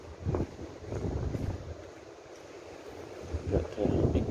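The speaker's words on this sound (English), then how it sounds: "We have really big waves up there." Big ocean waves roll in at a Phuket beach, heard as surging low rumbles that swell and fade with gusty wind buffeting the microphone, loud near the start and end.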